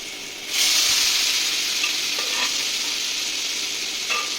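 Pressure-cooked cubes of papaya and potato drop into leftover fish-frying oil, and a sudden loud, bright sizzle bursts up and holds steady, with a couple of faint stirring clicks.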